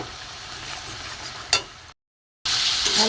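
Salt, turmeric, chili, cumin and coriander powders stir-fried together in a pan for a spicy vola fish curry, a steady sizzle with a brief scraping clack, a short silent gap, then a louder hiss.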